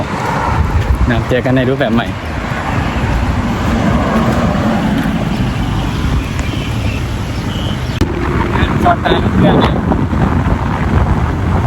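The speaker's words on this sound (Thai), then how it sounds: "ลมเย็นมากยามเช้า" Cold morning wind buffets the microphone outdoors near a temple gate, a loud steady rushing roar throughout, with someone speaking over it.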